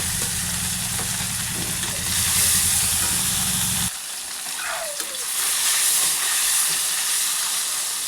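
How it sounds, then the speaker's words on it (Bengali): Bhola fish dropped into hot mustard oil in a kadai, a loud steady hiss and crackle that swells after a brief low hum cuts out, frying continuously near the pan. "তেল গরম হয়ে গেছে, এরকম মাছগুলো দিয়ে দিচ্ছি।"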